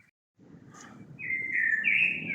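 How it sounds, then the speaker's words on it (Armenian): Birds chirp from trees in a botanical garden, one bright call rising and holding over a steady soft rustle of background noise. "թռչուններն է մեջը"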